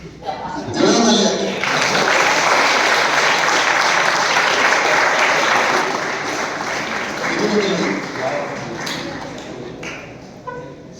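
An audience applauds at an event celebrating RRB exam results. Loud, dense clapping builds within the first second, holds steadily, then fades near the end, with some voices around it.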